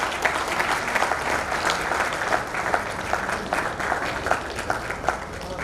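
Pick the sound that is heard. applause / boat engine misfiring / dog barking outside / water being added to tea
applause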